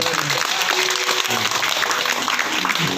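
A room full of people in Nabire claps in dense, sustained applause, with voices murmuring and calling out underneath the clapping.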